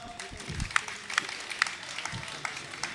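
Audience at a Hindi stage event applauding, a faint, distant patter of claps with scattered louder hand slaps.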